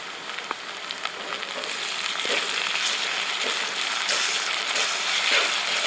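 A steady, crackling sizzle of ginger-garlic paste frying in a hot pan, with occasional pops and a faint scrape of stirring, close and moderately loud.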